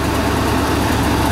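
Work truck engine with an exhaust leak idling close by, a steady rough low rumble with no change in revs.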